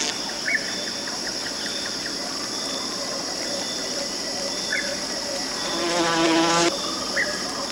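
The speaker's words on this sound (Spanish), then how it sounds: "La avispa alfarera esparce el lodo con sus mandíbulas, asistida por una vibración zumbona en todo el cuerpo." A potter wasp buzzes as it spreads mud with its jaws, a thin steady whine with a stronger vibrating burst near the end, set against a constant insect drone.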